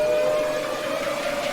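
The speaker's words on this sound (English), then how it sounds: "Got the weather sirens in there." A weather warning siren used as a sound effect in a dubstep track, a steady sustained wailing tone held throughout, loud and continuous.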